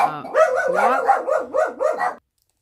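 Household dogs bark and yip in a quick run of about six close, loud barks, then the clip falls silent.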